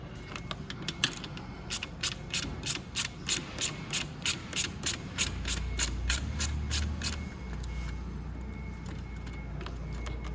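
A ratchet wrench clicks steadily while backing out a 10 mm bolt on the front fork of a Venom Roma 50cc scooter, a close, rhythmic run of sharp pawl ticks that then gives way to a low, steady mechanical hum.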